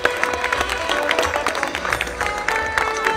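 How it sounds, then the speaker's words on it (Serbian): Crowd applause and scattered cheers greet actress Tanja Bošković arriving by jeep at the Sofest 2011 opening, steady clapping with music or voices mixed in. "molim vas aplauz za Tanju Bošković"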